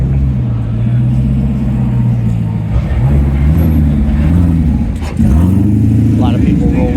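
Cars rolling past at a Cars and Coffee meet, a steady low engine drone with a couple of rising rev sweeps as vehicles pull through, close and continuous with crowd noise underneath.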